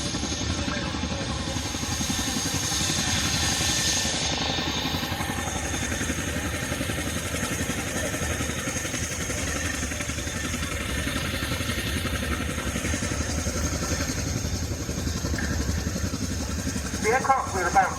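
Aircraft engine at the Cosford Air Show, a steady broadband drone with a droning low rumble holding at constant loudness throughout, with a brief rise in clatter near the end and faint talk underneath.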